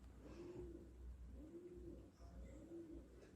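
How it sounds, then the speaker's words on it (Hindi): Birds in a Himalayan setting give three soft, evenly spaced cooing calls, faint and low against a steady background hush. "तभी हिमालय के आंगन में कुछ हिम पक्षियों की कलरव ध्वनि गूंजी"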